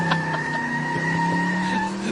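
A car takes off with tires squealing and skidding, a sustained shrill screech over engine tones, loud and close for the whole stretch with no talk.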